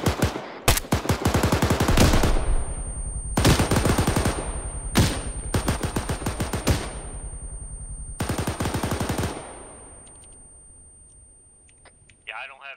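Loud, close machine gun fire in ArmA 3 comes in several rapid bursts over about nine seconds, each burst ringing out before a quieter tail with a faint click at the end.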